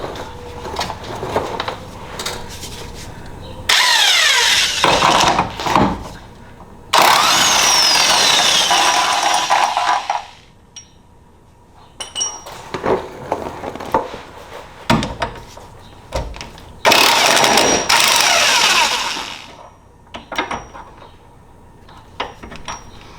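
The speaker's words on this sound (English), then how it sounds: "I'm going to attempt to take it out with the impact gun." An impact gun works an 18 mm body bolt loose on a 2007-2017 two-door Jeep Wrangler JK, firing in three loud, harsh bursts of hammering rattle separated by quieter clanks and handling noises.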